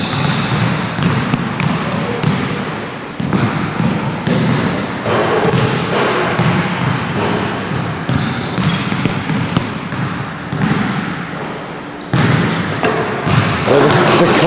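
Basketballs at a 17U boys' practice hit the rim and bounce on a gym floor, a steady series of thuds and clangs over gym noise and distant voices.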